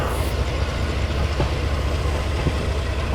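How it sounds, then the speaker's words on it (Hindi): The 12393 Sampoorna Kranti Express rolls along after leaving Kanpur Central, a loud continuous low rumble of wagons with faint rhythmic rail clicks, heard from inside the train. "चलिए दोस्तों निकल गई है ट्रेन अपनी कानपुर सेंट्रल से।"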